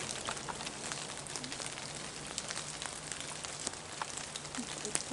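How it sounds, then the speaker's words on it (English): Light rain patters steadily under a tree, with scattered drops tapping on leaves and the ground nearby, soft and continuous. "It is just raining"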